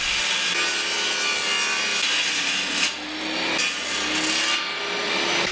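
A saw cuts wood pieces for a bedside table to final width, a loud, continuous rasping drone close up with a brief dip midway and no voices.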